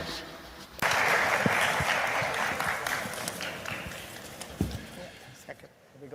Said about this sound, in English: We should give a round of applause to the Minister.